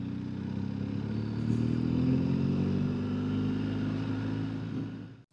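A BMW GS motorcycle rides along a cold, frosty road in Russia, its engine giving a steady low droning hum with slight rising pitch, close and continuous until a sudden cutoff at the end.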